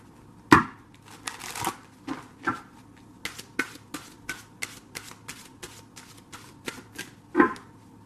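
A deck of tarot-style cards being shuffled by hand, a series of crisp riffling slaps and flicks in an irregular rhythm, close and fairly quiet.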